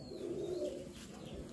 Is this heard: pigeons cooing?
yes